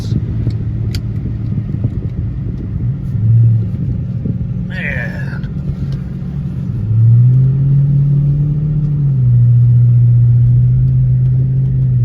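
A deep, throaty V8 exhaust from a 2003 Lincoln LS with Flowmaster mufflers rumbles nearby, swelling as the engine revs, with a short spoken word partway through.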